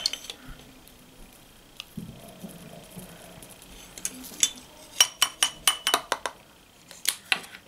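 Chunky glitter tumbling into a candle wax mix, a scatter of small bright clinks and ticks that build into a quick run of close, crisp taps, with light handling sounds before them.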